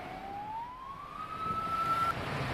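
A fire truck siren wails at a warehouse fire in Sisaket, Thailand, one rising tone sweeping steadily upward over background noise, moderately loud and alone.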